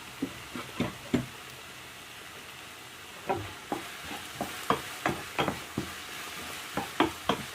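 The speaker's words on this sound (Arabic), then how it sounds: "بعد ما تشحر ليا البصله" Onions frying in a pan while being stirred, giving a soft background sizzle with a series of sharp scraping and clinking stir strokes in irregular bursts, close up and without talk.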